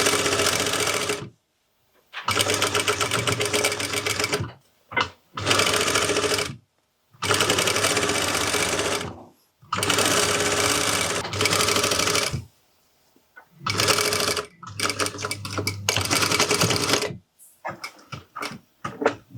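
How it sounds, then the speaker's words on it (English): A sewing machine stitches a shirt hem in several steady whirring runs separated by short pauses, some bursts brief like backstitching, close and clear with no talking. "I'm going to back stitch at the beginning, and we're going to sew all the way to the other side."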